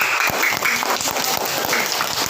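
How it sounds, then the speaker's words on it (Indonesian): A primary-school class in a religious-education lesson claps for the groups, a loud, continuous patter of many hands close by that keeps going to the end. "Tepuk tangan untuk semua kelompok yang bagus ya."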